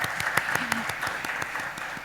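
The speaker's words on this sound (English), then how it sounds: "Let's have a bigger round of applause for them," An indoor audience at a talk on obesity management and nutraceuticals gives a short burst of applause, scattered claps fairly faint and distant for about two seconds.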